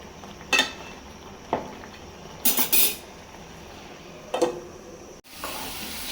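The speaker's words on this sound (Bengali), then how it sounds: "ডাল বসাবো, একটু ডালটা বসাই দিই।" Metal pot clinks in a home kitchen as a pan of lentils (dal) is set on the stove for oil-free cooking: a few separate knocks and clatters over a steady background hiss, with no talking.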